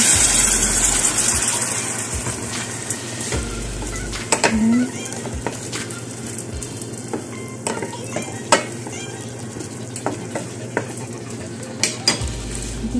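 Water hisses into a hot pan of frying string beans and eggplant, producing a loud, continuous sizzle with occasional clinks of a utensil stirring.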